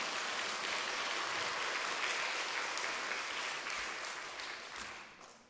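Applause from a church congregation during a Wednesday evening testimony service, a steady dense clapping that holds for several seconds and then tapers off toward the end, with no voices over it.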